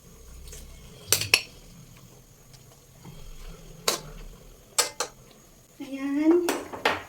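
Pork pochero is stirred in a metal pot, with scattered sharp clanks and scrapes of a utensil against the rim, ending in a busier run of scraping and clinking as ingredients are moved about.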